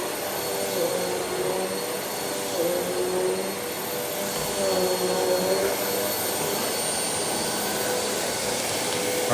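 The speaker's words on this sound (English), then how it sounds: "Let's do some vacuuming and see what we can pick up." An upright vacuum cleaner runs on long carpet, a steady close motor whine and airflow roar holding level throughout with slight pitch shifts as it pushes across the pile.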